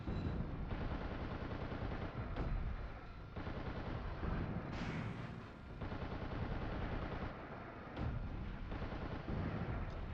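Heavy, loud gunfire from a giant mech's gun in the Steel Battalion video game: dense repeated booming shots running almost continuously with short pauses.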